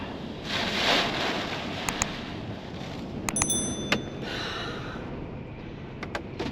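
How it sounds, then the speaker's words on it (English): Storm waves at high tide during Storm Agnes surge and crash over a seaside promenade in the UK, a loud, rushing roar of water and spray with gusting wind, several swelling bursts and sharp splashes close by. "The waves are literally coming right over onto the promenade."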